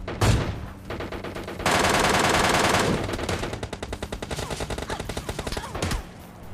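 Rapid automatic rifle fire from M4 and AKM guns in the PUBG Lite battle royale game, loud overlapping bursts with a dense sustained volley midway, then a quick rhythmic string of shots before tapering off.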